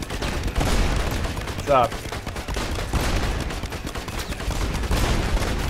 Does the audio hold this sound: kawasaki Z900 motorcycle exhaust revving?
no